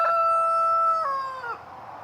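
A rooster crows once, a long, loud, drawn-out call with a falling tail at the end, close by.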